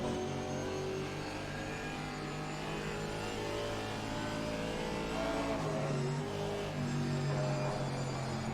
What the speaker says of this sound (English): Tom Proctor can hear that AMG engine screaming right behind him.